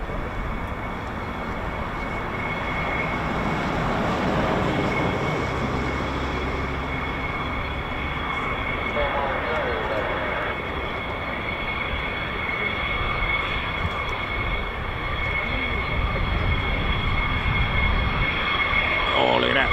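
A C-17 military transport aircraft flying near an air force base: a loud, sustained broadband jet roar with a steady whine, continuous throughout, with voices faintly present.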